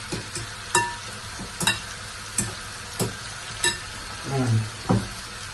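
A salted breakfast mixture sizzles in a frying pan while a utensil stirs it in regular scraping strokes, close and fairly loud, with a soft steady fry underneath.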